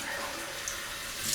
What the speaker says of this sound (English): Cold water again.